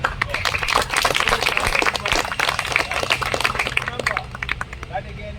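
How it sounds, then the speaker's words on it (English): An audience claps at a speakers' forum meeting in Bengaluru, a dense round of applause that swells, holds and thins toward the end, with a little background murmur. "So we'll give a round of applause."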